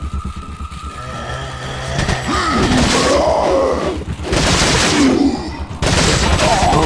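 Gunfire in Resident Evil 4, loud repeated bursts of shots mixed with game noise and groans, coming in several dense waves with short gaps between them.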